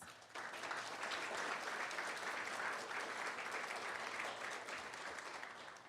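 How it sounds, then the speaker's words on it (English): Sustained applause from an audience, steady and dense clapping that fills the room for several seconds before easing slightly at the end. "Let's give them a round of applause."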